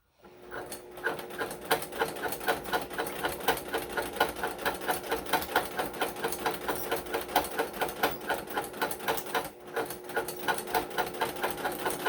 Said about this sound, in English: my sewing machine sounds a little harsh.